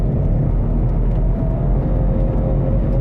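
Ford Focus ST back on the throttle in second gear while driving, a loud low engine rumble and road drone filling the cabin steadily with no voices.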